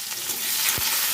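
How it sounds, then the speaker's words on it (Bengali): Chopped onion dropped into hot oil over dried red chilli, bay leaf and whole garam masala, a loud steady sizzle with a brief clatter, close and without speech. "ফোড়নের উপর দিয়ে দেবো কুচিয়ে রাখা পেঁয়াজ"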